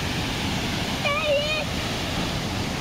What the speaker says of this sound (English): So this is Makalia Falls. It's during rainy season now,